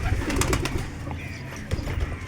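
Pigeons coo softly nearby, low rolling calls repeating over a light rustle and background noise.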